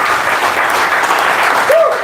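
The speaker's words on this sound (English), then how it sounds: "Round of applause to John" Audience applause for John at a whiskey tasting evening: loud, close, dense clapping from a small crowd for about two seconds, with a voice briefly audible near the end.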